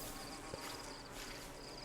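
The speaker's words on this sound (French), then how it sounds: "Les abeilles, on peut déjà récolter leur miel." Faint, steady buzzing of bees in The Sims 4, a thin insect drone with slight wavering pitch under a soft game ambience.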